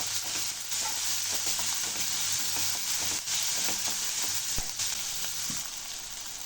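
Chopped onion and garlic sizzle in a hot frying pan for avarakkai poriyal, with a steady frying hiss and scattered scraping, tapping strokes from stirring, close and without voices.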